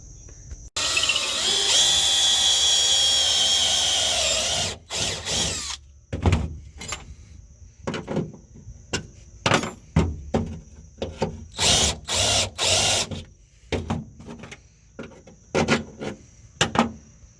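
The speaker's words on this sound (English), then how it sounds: "So I'm just gonna mark 2 little spots to drill, and then drill it out." A power drill drilling metal while working on a turbo Plymouth whines loudly for several seconds in one long run, then short stop-start drilling bursts follow with brief quiet gaps.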